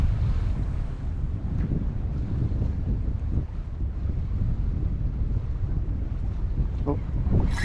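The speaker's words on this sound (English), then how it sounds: "I know a lot of people don't like to be out here in this windy condition" Steady wind roars across open water around a fishing kayak in inshore southwest Florida, a continuous low buffeting rush with microphone gusts and faint water slaps, no talking heard.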